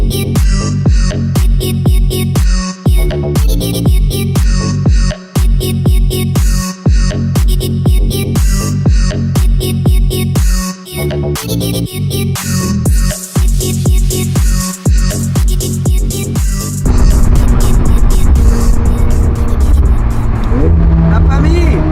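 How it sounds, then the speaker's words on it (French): A roofless supercar drives through Paris streets. Loud rhythmic music fills most of the stretch, then gives way to a continuous engine and road roar for the final seconds. "Finalement, on peut rouler sur la route sans le toit."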